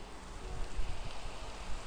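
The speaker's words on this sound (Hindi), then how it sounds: "बारिश तो अच्छी खासी हो रही है।" Rain falls in the Minecraft Java Edition video game as a steady, dense hiss of droplets with a low rumbling undertone. The sound is continuous and moderately loud, with no voice over it.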